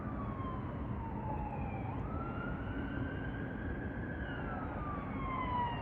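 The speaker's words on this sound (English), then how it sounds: "not an ambulance, but a fire chief truck" A fire chief truck siren wails in long rising and falling tones over steady traffic rumble, moderately distant and continuous throughout.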